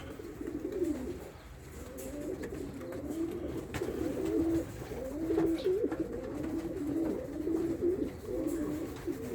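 Several pigeons coo repeatedly in soft, rolling phrases, overlapping one another against a faint background hiss.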